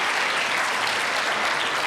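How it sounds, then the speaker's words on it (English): Graduates and parents at a fall 2011 journalism school commencement cheer and applaud, a dense, steady wall of clapping and crowd noise that stays loud throughout. "So give yourselves a cheer too."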